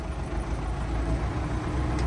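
A Zetor tractor's non-turbo four-cylinder engine idles steadily with a deep, rumbling drone, loud and close, with no talking.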